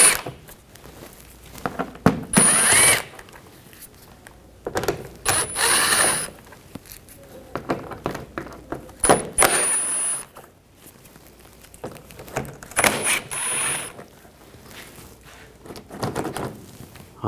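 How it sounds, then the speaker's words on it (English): Screws being removed with a T20 socket from underneath a 2014-2020 Nissan Rogue 2.5L during alternator replacement: several bursts of ratcheting and metallic clicking separated by quieter handling noise, close and moderately loud. "Underneath, we're going to take these screws out. Use a T20 socket."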